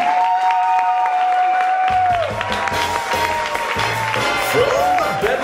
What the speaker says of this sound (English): let's hear your best applause